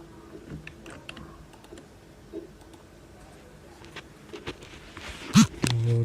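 Computer keys are pressed on a keyboard, scattered soft clicks and taps at close range, sparse and quiet, with a few louder presses near the end.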